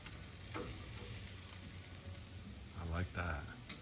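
Food sizzles and fries steadily in a hot pan right after being flipped, with louder bursts of crackle near the end while a person talks over it.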